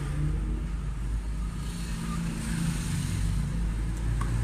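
A Nissan engine revs as the throttle is worked by hand, a steady loud rumbling drone with slight surges, heard up close under the hood.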